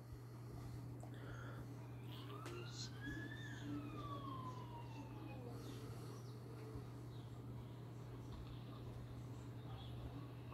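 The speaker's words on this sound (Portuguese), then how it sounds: "A ambulância do SAMU chegando." A SAMU ambulance siren wails in a rising and falling sweep as it arrives at the scene of a school attack in Aracruz. It sounds somewhat distant and faint over a steady low hum.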